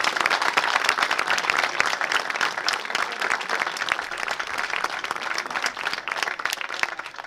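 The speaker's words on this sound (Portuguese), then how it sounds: "uma salva de palmas para eles." A hall audience at a Portuguese cantoria folk-singing night applauds the camera operators: dense, steady clapping from many hands holds at an even level throughout, with no voices standing out.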